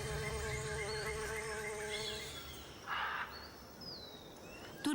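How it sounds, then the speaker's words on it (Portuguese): Bees and other insects buzz around nectar-rich flowering trees in a tropical rainforest, a steady droning hum close by with a couple of higher passing whines, quiet and with no voices. "Seu néctar rico atrai abelhas e outros insetos."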